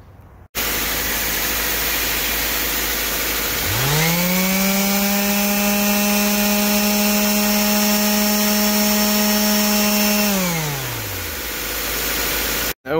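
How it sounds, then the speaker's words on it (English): An electric sander works on the foam surface of a camper being covered in canvas. After some background noise, its motor whirs up, holds a steady, loud tonal hum for several seconds, then winds down. "it should have more than enough power to run my sander, so I can quickly go ahead and sand that"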